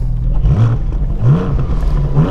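A 2021 Porsche 718 Cayman GTS 4.0 engine revs hard during an aggressive launch with stability control in limited mode, around 3,500 rpm: loud, close, repeated rising rev surges over a steady engine drone.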